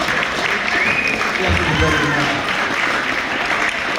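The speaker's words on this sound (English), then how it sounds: "We want a big round of applause for our first off and David Boyce." A banquet crowd gives a steady round of clapping for a track and field athlete, the dense applause holding evenly throughout with some cheering mixed in.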